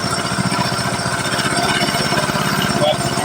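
A 30 kW Chinese permanent magnet generator runs on LPG at minimum throttle speed, giving a loud, steady, close engine drone with a fast regular pulse and no breaks.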